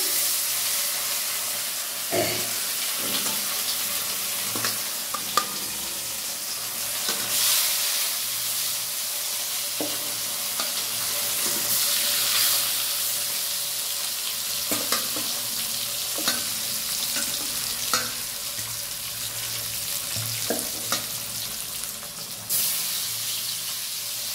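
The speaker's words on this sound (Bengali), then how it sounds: "ভেটকি মাছ আলু ফুলকপি দিয়ে এই যে মাছটা ভাজি।" Barramundi (bhetki) fish frying in a pan with potato and cauliflower, a continuous loud sizzle and hiss with intermittent stirring scrapes and clinks throughout.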